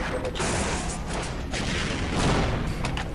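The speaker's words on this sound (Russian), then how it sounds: "И четкий РПГ не оставил Слиму шансов." An RPG rocket fires and explodes during a fast first-person shooter duel, a dense burst of loud crashing, rattling noise with no pause.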